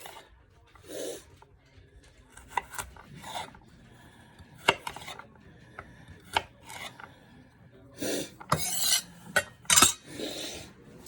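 A knife chops small carrots into chunks on a board, producing a run of sharp, irregular thuds and clicks, some quick and bunched together, close and fairly loud over a quiet kitchen background.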